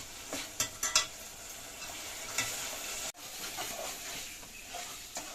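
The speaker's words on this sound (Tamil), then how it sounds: "இதையும் வந்து சேர்த்து நல்லா இந்த எண்ணெயில் நல்லா கொஞ்சம் நேரம் வதங்கட்டும்" Ingredients for a stingray fish curry sauté in oil over low flame with a continuous close sizzle, broken by a few spoon clinks and one short gap in the sound.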